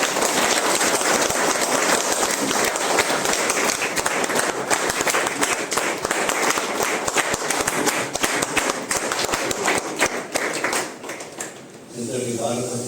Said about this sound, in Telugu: అందరు వన్స్ అగైన్ క్లాప్స్